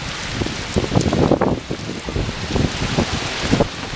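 Strong hurricane wind during Hurricane Ian flooding roars and buffets the microphone in gusty bursts, with rushing, splashing noise throughout and no clear speech.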